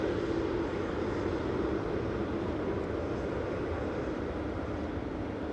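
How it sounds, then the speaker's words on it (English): A Lufthansa jet departing Manchester Airport for Munich gives off a steady, fairly distant low engine drone that stays even throughout, with no speech. "That was Lufthansa departing back to Munich with flight"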